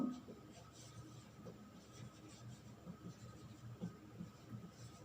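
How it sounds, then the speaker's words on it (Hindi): A pen scratches out a heading by hand during a chemistry lesson. The strokes are faint, soft and irregular over a low room hum, with no talking. "जो हेडिंग है वो लिखेंगे दिस वन"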